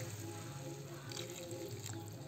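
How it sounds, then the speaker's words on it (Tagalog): Water is poured into a pot of mixed vegetables during cooking, a steady liquid splashing and trickling over background noise and faint voices, lasting a couple of seconds. "Nilagyan niya po ng tubig"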